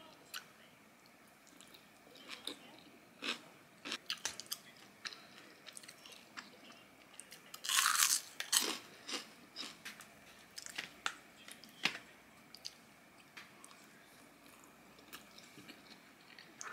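Soft, close chewing and biting of flatfish topped with stir-fried kimchi, with a steady run of quiet crunches and moist squishes and a louder crunchy burst partway through.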